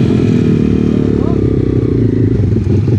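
A road legal pit bike engine runs loud and close on Salisbury Plain, a steady throaty drone with rough mechanical clatter throughout, with voices partly over it.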